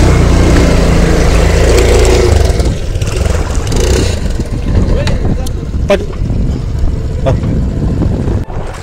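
A boat ferries a vehicle across floodwater near Lanka Gannavaram village, its engine droning loudly under heavy wind buffeting, with a few sharp clicks and knocks toward the end.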